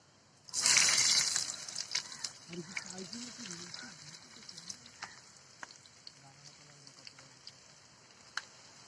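Chopped onion dropped into hot oil with curry leaves in a pan for a fish recipe, giving a sudden loud sizzle that settles into steady quieter frying with occasional crackles and stirring clinks.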